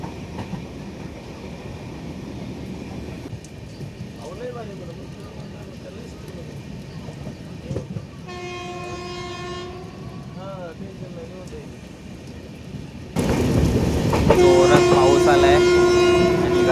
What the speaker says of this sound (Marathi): गाडी पण आपली चालली आहे